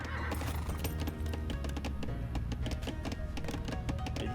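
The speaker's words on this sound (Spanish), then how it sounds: "Habrá algún caballito por acá dando vuelta quizá." Horse neighing in the Age of Empires II video game, a whinny heard over steady clip-clop hoofbeats and game background sound, moderately loud and continuous throughout.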